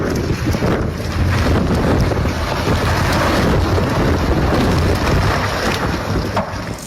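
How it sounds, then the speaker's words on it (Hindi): Snowstorm wind in America roaring steadily and loudly, a dense continuous rush with buffeting gusts against the microphone and no voices. "ये अमेरिका की तस्वीर मैं आपको दिखा रहा हूं, बर्फीला तूफान जो अमेरिका में आया है।"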